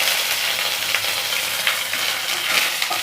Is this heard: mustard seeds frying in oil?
yes